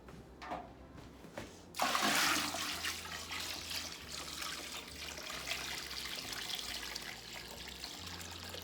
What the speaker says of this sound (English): what I'm going to do is pour this into our bucket mixture of currant berries, water,